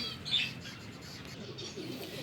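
Red homer pigeons cooing close by, soft low repeated calls with a brief flutter of wings near the start and no one speaking.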